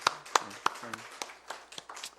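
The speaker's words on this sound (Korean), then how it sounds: "우리 하나님께 영광의 박수 드릴까요?" A congregation at a Korean Holy Week dawn church service gives a few scattered claps, sharp and spaced apart, with murmured voices between them.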